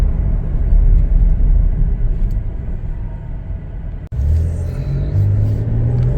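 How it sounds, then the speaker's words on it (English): A 2022 Chevrolet Traverse LS accelerates on the road, its engine rumble steady and close, a brief dip midway followed by a rising, smoother drone. "Good acceleration,"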